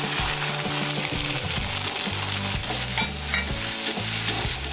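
Fish kalia masala with cashew paste and poppy seed paste sautéing in a pan, a steady dense sizzle with frequent scraping stirs throughout, close and loud with no talk.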